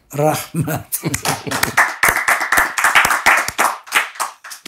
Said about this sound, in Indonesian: Tepuk tangan buat Kiai Syarif Rahmat.